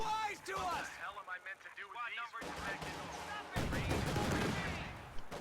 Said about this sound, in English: Flak emplacement.